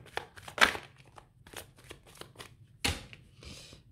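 Tarot deck being cut by hand, a few short papery flicks and riffles in a quiet room, close and moderately loud, with no talking.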